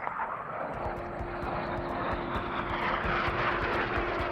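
A Red Arrows jet pulls up during a low-level display, its engine a steady loud roar with a constant droning tone, continuous throughout and close by.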